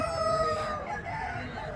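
A rooster crows at a busy poultry market at Nallapadu, the call fairly prominent over a dense bed of crowd noise and other birds.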